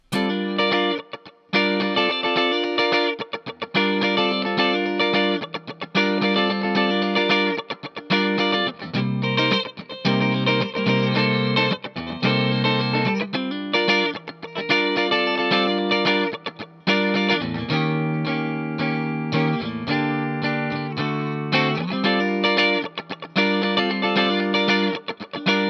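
Electric guitar playing a funky 12-bar blues progression from a song, rhythmic choppy chords with effects, continuous and loud with no talking.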